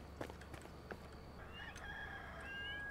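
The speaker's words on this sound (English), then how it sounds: "the chicken crowed. Or the rooster crowed." Rooster crowing in the video game Enshrouded, a drawn-out crow in the second half with faint clucks earlier, heard at moderate distance over steady ambient game noise.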